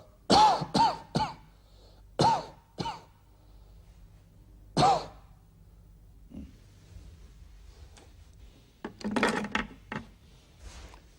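Several sharp coughs close by, in short bursts with pauses between, ending in a louder cluster of coughing.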